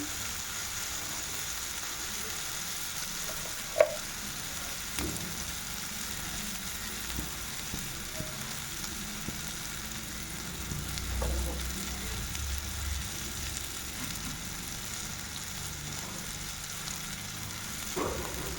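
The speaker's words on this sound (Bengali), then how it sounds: "মশলা কিন্তু খুব সুন্দরভাবে কষে যাবে।" Spices fry in oil for a tengra fish curry with green chillies added, giving a steady close sizzle with occasional stirring clinks and scrapes across the whole stretch, and no talking.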